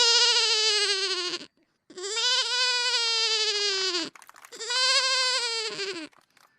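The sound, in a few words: boy imitating a crying baby goat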